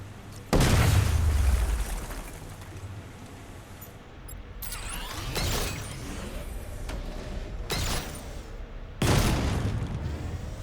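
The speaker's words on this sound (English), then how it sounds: "Get close and apply the explosive directly to destroy that wall." An explosive charge blasting through a wall in Batman: Arkham Knight: several separate heavy booms spaced seconds apart, the first deep and rumbling, the later ones sharper, each dying into a low ringing debris tail.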